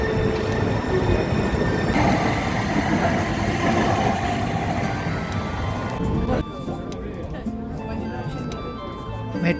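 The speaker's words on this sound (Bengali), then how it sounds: "মেট্রো ছুটে চলেছে এখন ওয়াশিংটন লেকের ওপর দিয়ে।" A metro train runs over the Lake Washington bridge in Seattle, heard from on board as a loud, steady rumble of wheels with faint squeals and rattles. The noise drops in level partway through.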